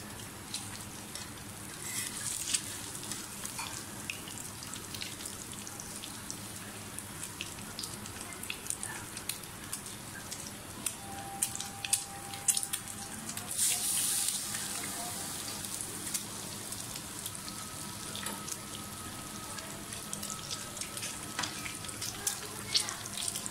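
French toast frying in a pan over a medium flame, a continuous soft sizzle and crackle with scattered pops and light clinks, steady and close throughout.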